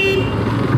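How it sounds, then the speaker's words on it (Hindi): An auto rickshaw horn gives a short, brief toot on a busy Indian road, heard close amid traffic and engine noise. "फिर भी उसको ऑटो वाले को हॉर्न बजाना जरूरी है।"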